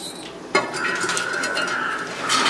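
A wide metal cooking pot is set down with a clank, followed by a faint ringing hum and light rustling handling noises nearby.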